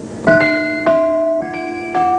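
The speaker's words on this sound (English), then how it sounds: "Sounds like Tibetan temple bells." Fairlight synthesizer playing low, resonant bell tones like Tibetan temple bells, four loud struck notes each ringing on with long sustained overtones, alone with no talk.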